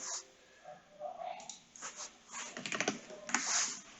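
Keys on a computer keyboard are tapped while working in an Excel spreadsheet. The typing comes as close, irregular bursts of clicks, quiet at first and then busier, with no talk.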